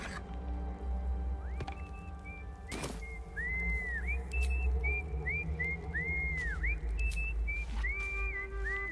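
A character in Baldur's Gate 3 whistles a tune with short swooping, chirpy notes in a bouncy rhythm, set over a steady game backdrop with a few sharp clicks.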